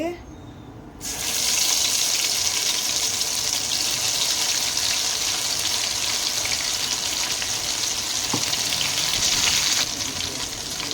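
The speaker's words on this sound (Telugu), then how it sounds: "ఇలా చికెన్ మొత్తం తీసుకున్న తర్వాత మిగతా చికెన్ కూడా వేసుకొని ఫ్రై చేసుకోవాలి." Chicken fries in a pan with ginger, breaking into a loud, close, steady sizzling hiss after a quiet first second and holding evenly throughout.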